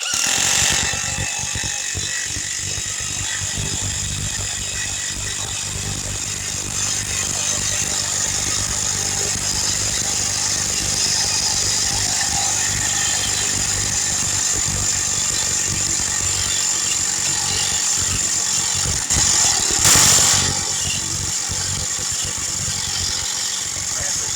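Black & Decker cordless impact driver driving a fastener, a continuous buzzing hammering drone that runs almost without pause for over twenty seconds, close and loud, with a brief sharp burst near the end.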